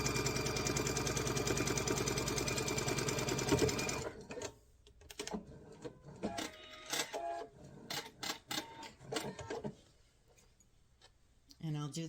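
A sewing machine chain-stitches quilt block pieces, running in a fast continuous whir for about four seconds and then stopping, after which come quiet bursts of handling and clicking with soft talk.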